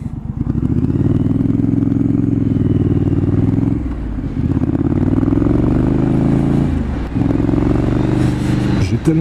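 A 2019 Triumph Street Scrambler 900 motorcycle rumbles loud and close, its engine and exhaust droning with rising pitch during acceleration, briefly dipping at gear changes around the middle and near the end.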